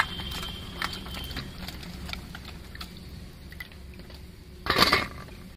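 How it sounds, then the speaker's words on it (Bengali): Pointed gourds are rubbed and rinsed by hand in a bowl of water, making soft wet squishes, gentle sloshing and light knocks against the bowl, with one louder splash near the end. "পটলগুলোকে ভালো করে জল দিয়ে চটকে ধুয়ে নিচ্ছি।"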